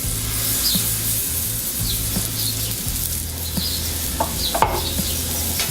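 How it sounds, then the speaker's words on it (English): A pork chop sizzles on a hot 36-inch Blackstone griddle with olive oil: a steady, dense frying hiss runs throughout, with a few faint metallic clinks and no talk over it. "now that we got the griddle all nice and hot, let's go ahead and lay down our pork chop"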